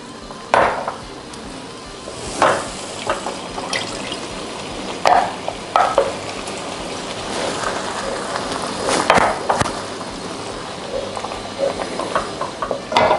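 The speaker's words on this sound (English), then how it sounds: "we're going to add 2 cups of chicken stock. And you add this a little bit at a time." Chicken stock goes into a pan a little at a time and is stirred, with intermittent scraping and stirring clatter, faint liquid sizzle and occasional utensil knocks at moderate loudness.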